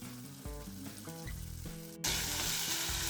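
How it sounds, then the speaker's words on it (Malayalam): Mustard seeds, dried chilies and chopped shallots fry in hot oil in a pan, and a loud, steady sizzle sets in abruptly partway through, close by and with no voices. "നമ്മൾ ഇന്ന് ഇതിനകത്ത് തന്നെയാണ് കടു വറുക്കുന്നത് കടുവും ഇട്ട് മുളകും ഒക്കെ ഇട്ട് ഇനി ഇതിലേക്ക് ചെറിയ ഉള്ളി അരിഞ്ഞത്"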